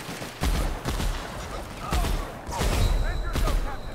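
Gunfire in the video game The Outer Worlds: bursts of shots and explosive pops that come and go over several seconds, mixed with a voice talking.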